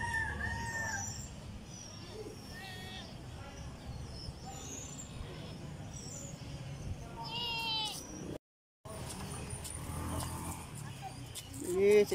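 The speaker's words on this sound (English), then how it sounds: "Chicken." A rooster crows and chickens cluck in an outdoor yard, with the calls rising over a steady background murmur while people chat throughout.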